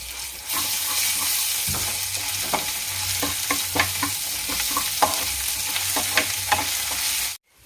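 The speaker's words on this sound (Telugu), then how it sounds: "మంచిగా రెడ్ కలర్ వచ్చేలాగా ఫ్రై చేసుకోండి" Tempering spices and ginger-garlic paste sizzle steadily in hot oil while a spoon stirs and scrapes the pan, with scattered crackles and pops, close and continuous until it stops abruptly.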